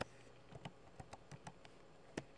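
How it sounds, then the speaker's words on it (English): Quiet keystrokes on a computer keyboard while entering a spreadsheet formula, a quick irregular run of about ten light clicks over two seconds, close but faint. "typing equals"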